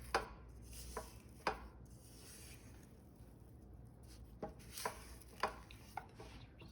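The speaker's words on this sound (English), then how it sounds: "I'm going to scrape down my bowl again" A rubber spatula scrapes down a mixing bowl of chocolate chip cookie dough in soft, close strokes with a few light taps, quiet over a low background hum.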